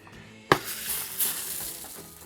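Marinated steak seasoned with ground pepper hits a hot pan for a fast fry, giving a sudden sharp contact followed by a bright, steady sizzle that swells briefly, close up with no talking.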